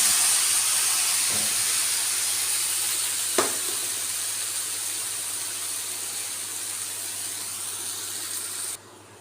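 Soaked noodles sizzling in a frying pan, a loud, steady close hiss that fades slightly over time, broken by a couple of brief knocks and cutting off abruptly at the end, no voices.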